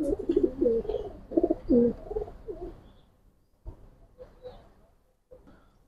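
Pigeons coo in a loft in Islambagh, Old Dhaka, with several soft, throaty burbling calls close by in the first few seconds, then quieter scattered coos and light shuffling.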